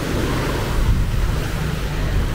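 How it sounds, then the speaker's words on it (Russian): Sea waves roll and break on Patong beach in Phuket at high tide, a loud, continuous wash of surf mixed with wind rumble against the microphone. "Волны приличные"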